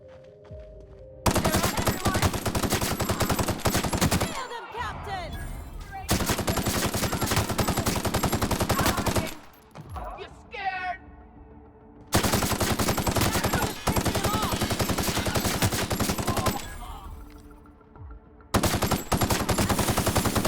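Gunfire in the video game The Outer Worlds comes as long, loud bursts of rapid automatic fire separated by short pauses, with a few brief sounds between bursts.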